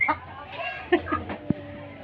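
A couple of chickens cluck in short, soft bursts close by during a family Christmas gathering, with brief sparse calls and a small knock amid faint background voices.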